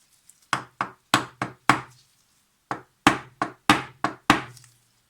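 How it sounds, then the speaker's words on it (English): Sharp metal-on-metal hammer taps on a part of a Zorki 6 camera shutter, struck close up in two quick bursts of about five and six blows with a short pause between, no talk. "I'm hammering on this side without touching the brass part"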